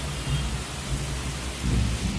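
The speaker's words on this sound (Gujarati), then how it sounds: "તો ફૂલ વરસાદ પડી રહ્યો છે" Heavy monsoon rain pours steadily in Junagadh in a dense, hissing wash, with low rumbles underneath and no voices.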